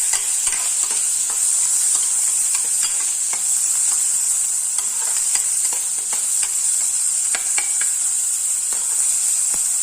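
Mixed vegetables with green chilies and tomato sautéing in a pan, a steady loud sizzle with frequent scraping and tapping stir strokes throughout, no talking.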